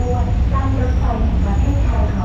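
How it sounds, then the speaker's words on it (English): A train from Kanchanaburi arriving at Thonburi Station, Bangkok, rumbles steadily with a low, continuous roar of wheels and carriages, loud and close, with a faint voice mixed into the noise. "I'm arriving at Thonburi Station, which is to the northwest of Bangkok. This train has come from Kanchanaburi,"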